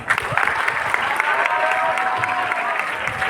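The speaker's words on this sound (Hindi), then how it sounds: "मैम जोरदार ताली हो जाए" An audience gives sustained applause after a poem recital about daughters' safety and education, a dense steady clapping that holds loud throughout.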